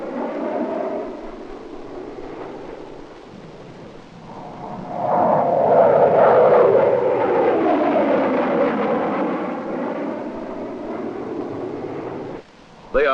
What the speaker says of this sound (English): Here, U.S. F-100s take off in heavy dust for a ground support mission.